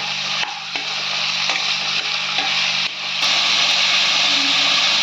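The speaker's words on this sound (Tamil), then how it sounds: "இது கொஞ்சம் வதக்கலாம் இப்போ" Chopped vegetables including potato sautéing in a hot pan, a steady loud sizzle with occasional clicks of stirring, no voices.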